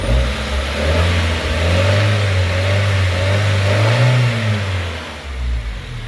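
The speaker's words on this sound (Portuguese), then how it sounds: "deixa eu ligar o motorzinho" A 2006 Honda Fit with 127,000 km runs steadily after starting, its engine a loud, close, continuous hum with slight rises in revs and no talk.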